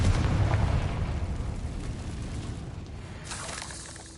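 Confringo blasting spell from Hogwarts Legacy bursting with a deep, rumbling boom at the start that rolls off into a lingering low roar, followed by a fainter crackling burst near the end.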